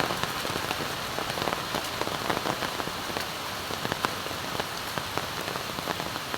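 Heavy typhoon rain pours down steadily in the mountains during Typhoon Aghon, a dense hiss of drops pattering on surfaces nearby, with occasional sharper splats.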